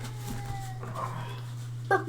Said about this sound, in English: I hear dog.